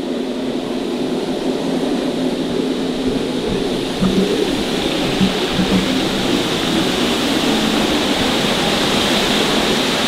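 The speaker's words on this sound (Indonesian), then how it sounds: "sekarang kita sudah sampai di air terjunnya" The 65-metre Putuk Truno waterfall at Prigen roars as a steady, loud broadband rush of falling water that swells slightly partway through, with no voices over it.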